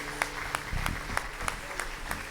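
A church congregation applauds during a celebration service, a dense wash of clapping with rhythmic accents, blended with music and faint voices underneath.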